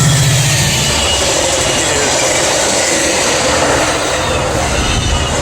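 A loud, continuous rumbling roar with a broad rushing noise, like a train passing close by, holding steady throughout.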